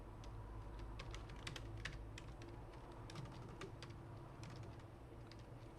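Keys clack softly on a computer keyboard while a login is entered into accounting software. The light clicks come in uneven clusters over a quiet background, and no one speaks.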